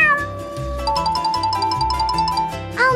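A cat meows briefly over loud, bright, tinkling background music, with a short rising and falling cry near the end.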